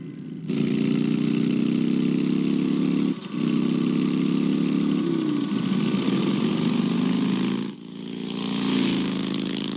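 Batmobile engine from Batman: The Telltale Series running steadily with a loud, sustained low drone, dipping briefly around three seconds and again near eight seconds before revving back up.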